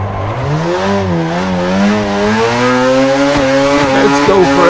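Car engine and tires in the Assetto Corsa racing game while drifting in donuts with no e-brake, a loud rising and wavering engine drone with tire squeal layered over it.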